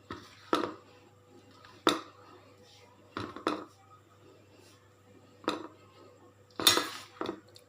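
A spoon clinks and scrapes against a vessel while sunnundalu mixture is stirred and mashed with ghee, a handful of separate close taps and clatters over quiet background.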